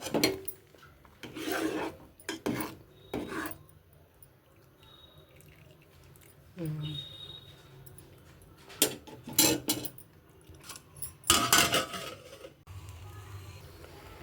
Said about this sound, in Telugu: మధ్య మధ్యలో ఇలా కలుపుతూ ఉండాలి